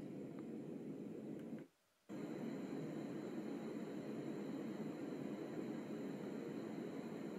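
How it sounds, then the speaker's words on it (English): A Dreamegg white noise machine hisses evenly, cutting out briefly to near silence for about half a second before resuming unchanged. "And there we've come around full circle with the white noise sounds."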